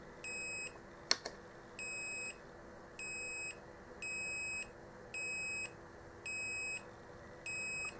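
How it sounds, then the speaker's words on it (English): A steady series of short, high electronic beeps from a switch continuity test repeats about every 0.7 seconds, with a brief click early on, in a quiet room. "And I've got a beep, which is all good."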